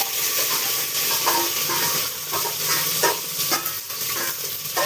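Spiced tempering for spinach dal sizzles and crackles loudly in hot oil, a dense continuous frying hiss with occasional sharper pops and scrapes.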